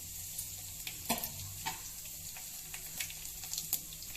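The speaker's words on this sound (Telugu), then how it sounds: "ఈ పోపు నల్లకి కాకుండా బాగా నీట్గా రెడ్డిష్ వచ్చేటట్లా కొంచెం వేపుకోవాలి" Dried red chillies, cumin, chana dal and urad dal tempering in hot oil for a bottle gourd curry, with a steady sizzle and scattered short scraping stir clicks close by.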